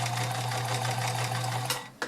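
A vintage Kenmore 1560 convertible free-arm sewing machine stitching with a size 16 needle, a loud steady mechanical whir and rapid chatter that runs continuously before slowing and stopping with a final clunk.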